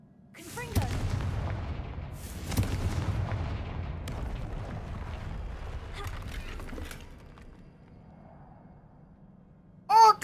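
Confringo fire-blast spell explosions in Hogwarts Legacy cleaning up troll debris: booming blasts rumble through the first seven seconds, then one sharp loud burst at the very end.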